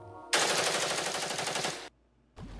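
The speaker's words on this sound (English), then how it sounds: "creating the effect of machine gun fire" A rapid, steady burst of machine gun fire lasting about a second and a half, loud and close, followed by a brief silence and the start of another sound.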